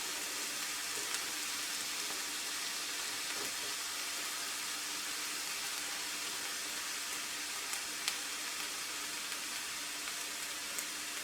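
Onions and mushrooms fry and brown in a pan, giving a steady, dense sizzle with fine crackling pops, constant and close throughout with no talking.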